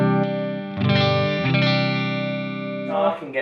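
An electric guitar plays sustained ringing chords through a clean amp tone, with a strum near the start and another midway, the notes decaying slowly before a short scratchy end.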